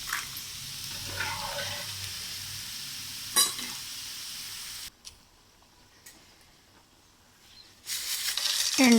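Oil sizzles in a pan while bitter gourd and dried prawns fry, a steady hissing with a light tap and a pause of quieter frying before the sizzle surges loudly again at the end.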